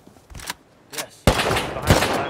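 Gunfire in the survival game Rust near an oil site gas station, a few sharp shots early then a louder sustained burst of rifle fire close by, no talk.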